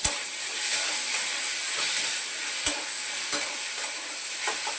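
Oil is added to chicken masala paste in a pan, a loud steady sizzle and hiss with sharp spoon clacks and stirring scrapes scattered throughout.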